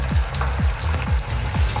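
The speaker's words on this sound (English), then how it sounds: "listen to that sizzle" Chicken sizzles loudly while frying, a close, dense crackle of hot oil with regular low swishing sounds as the pieces are stirred or moved.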